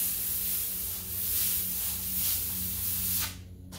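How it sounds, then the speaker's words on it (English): An airbrush sprays black paint in a steady, close hiss for about three seconds before cutting off abruptly, with no talking. "Make sure our airbrush is working okay."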